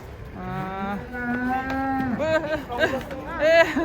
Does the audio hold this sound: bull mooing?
yes